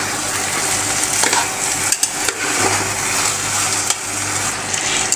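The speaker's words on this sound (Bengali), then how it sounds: "এখন কিন্তু আমি হচ্ছে এই তেলের মধ্যে ডাল সহ টমেটো আলু সহ ভালো করে একটু ভুনা করে নেব আগে" Lentils with tomato and potato fry in hot oil while being stirred, giving a steady close sizzle with occasional scraping and stirring knocks throughout.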